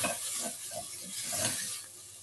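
Red onions frying in a pan, a soft steady sizzle with faint stirring scrapes, close but quiet and without talk.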